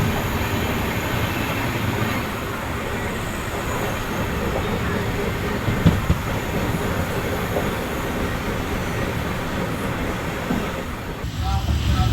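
Puducherry to Howrah Superfast Express train running, with a steady, loud rumble of rolling carriages and wheels that holds throughout, plus a brief louder knock midway.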